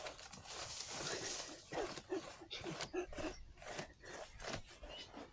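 Hunting dogs with the Hadzabe tribe in the African bush, barking and yelping in rapid, overlapping bursts close by as they chase prey hiding inside a pipe-like burrow.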